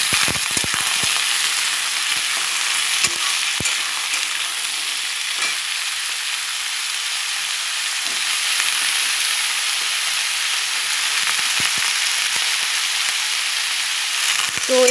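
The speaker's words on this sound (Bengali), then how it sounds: "তো এই সবজিটা এবার খুব সুন্দর করে ভাজা ভাজা করব।" Elephant foot yam fries with onions in a pan, giving a continuous bright sizzle with scattered scrapes and taps from stirring throughout.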